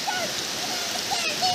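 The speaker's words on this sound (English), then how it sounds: "So rain also started, you can see behind." Rain falling steadily near a forest stream and waterfall on a picnic outing near Mumbai, a constant broadband hiss of water with faint voices and birdlike chirps over it.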